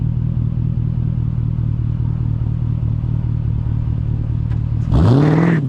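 A Mercedes CLK 500 in race mode 9 with a Roar throttle-controller pedal and traction control left on holds a loud, steady engine drone, then bursts into a sudden rising roar under hard acceleration in the final second.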